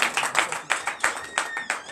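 A church congregation clapping in acclamation during a Sunday worship service in Benin, a quick run of sharp, fairly close claps in an uneven rhythm, with a voice faintly underneath.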